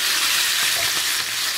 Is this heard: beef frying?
yes